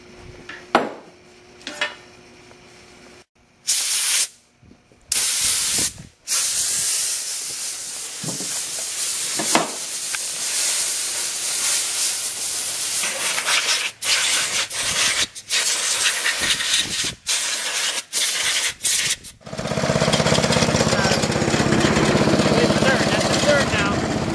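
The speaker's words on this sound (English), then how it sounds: "you hear that little air coming through there? That's air coming from the compressor" Compressed air from an air compressor hissing through a line in a welding setting: a soft, continuous hiss with intermittent clatter and rubbing sounds, and a louder steady rush near the end, with people talking at times.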